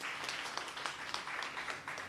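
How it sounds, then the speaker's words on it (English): A crowd claps steadily for a couple of seconds, sounding somewhat distant and subdued. "Let's give her a round of applause."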